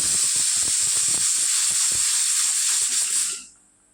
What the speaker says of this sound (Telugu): కుక్కర్ ఆవిరి